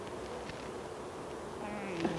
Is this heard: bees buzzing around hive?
yes